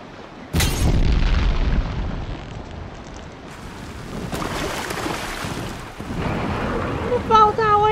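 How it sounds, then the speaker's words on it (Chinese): A sharp, loud explosion goes off in Horizon Zero Dawn, a sudden boom followed by a rumbling, crackling tail of debris, with game sounds continuing and brief tonal effects near the end. "那爆炸威力没有像那个那么大，而且还炸不死他们自己耶"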